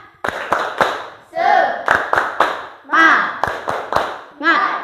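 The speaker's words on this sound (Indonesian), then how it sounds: "Ayo kita tepuk semangat dulu" Schoolchildren do a rhythmic 'tepuk semangat' clapping chant: sharp claps in quick groups alternate with shouted chanting voices, loud and close, in a repeating pattern.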